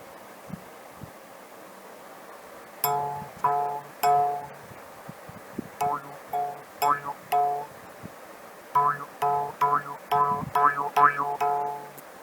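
Cast iron morchang jaw harp played with its reed muted against the lip, giving short twangy plucked notes in rhythmic bursts and quick runs over faint background hiss, with no voices.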